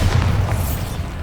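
A Bombarda spell blast in the video game Hogwarts Legacy: one loud, close, deep booming explosion with a heavy low rumble that holds through the whole moment.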